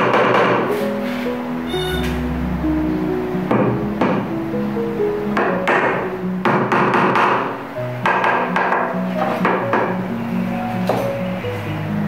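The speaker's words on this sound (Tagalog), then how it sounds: "gamit natin yan ang mahiwagang martilyo" A claw hammer standing in for a rubber mallet taps tiles into place during bathroom tiling, sharp close knocks in irregular bursts with short pauses and faint clinks between strikes.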